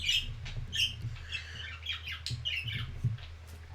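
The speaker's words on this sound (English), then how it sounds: "The birds are being very, very noisy." Birds squawk and chirp in short, scattered calls over a low background hum, moderately distant and fairly faint.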